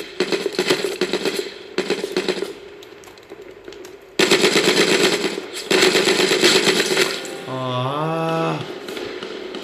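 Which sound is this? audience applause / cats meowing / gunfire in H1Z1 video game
gunfire in H1Z1 video game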